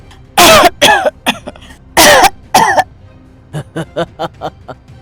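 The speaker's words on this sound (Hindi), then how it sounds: "सारे लोग फिर से खांसने लगे।" Several people cough loudly and harshly in heavy bursts, followed by a quicker run of smaller, softer coughs.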